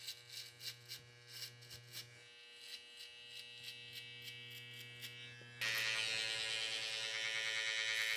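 Electric hair clippers buzz steadily while cutting a fade, a low pulsing hum with rhythmic strokes for several seconds, then rising abruptly to a louder, brighter high-pitched whine near the microphone.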